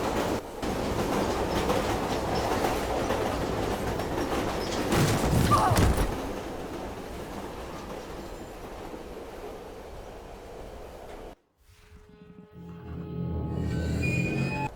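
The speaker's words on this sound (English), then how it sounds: "I just absolutely love the train here." Subway train riding through the tunnels in Silent Hill 3, a continuous rumbling rattle of wheels on track that surges midway, drops out briefly near the end, then resumes.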